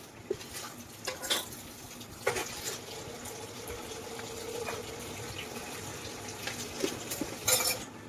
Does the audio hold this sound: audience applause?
no